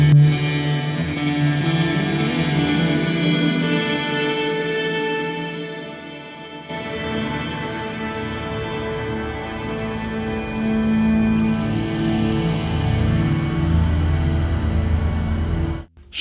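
Electric guitar through the slow drip reverb preset on a Headrush Gigboard, sustained chords blooming into a long, washy ambient tail, with a fresh strum partway through and the sound ringing on until cutting off at the end.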